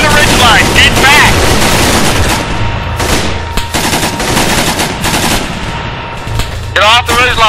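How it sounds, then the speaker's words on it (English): Sustained automatic gunfire and rapid shots in an Arma 3 firefight, loud and dense throughout, with bursts layered over one another and shouted voices in the mix. "Everybody starts firing. 3, 2, 1, firing!"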